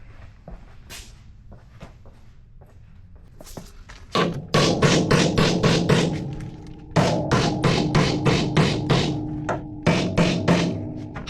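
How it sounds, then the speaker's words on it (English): A big hammer pounds repeatedly on a car's control arm, a classic 1969 Nova tubular suspension part, with a few lighter taps first and then loud, closely spaced metallic blows in several bursts. "I'm just gonna hit it with a big hammer."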